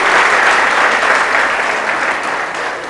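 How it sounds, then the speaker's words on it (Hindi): Loud, full applause from a large audience honoring doctors at an All India Jain Doctors Meet, a continuous wash of clapping that stays strong and tapers only slightly toward the end. "आप कृपा करके एक जोरदार तालियों से उनका सम्मान कीजिए।"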